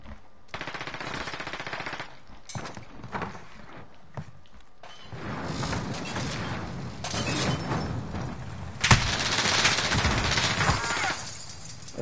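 Rapid automatic gunfire rattles in bursts during a Call of Duty: Modern Warfare match, loud and close, with sharper cracks and shattering near the end.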